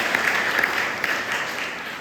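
A church congregation applauding, a steady wash of many hands clapping in a reverberant hall, fairly loud and sustained for the whole moment without speech over it.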